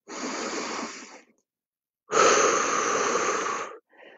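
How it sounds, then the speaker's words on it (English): Deep breathing during an exercise workout: two long, forceful, airy breaths, the second stronger, separated by a pause, then a short third breath begins, heard close and with no talking. "Two more breaths. One more breath."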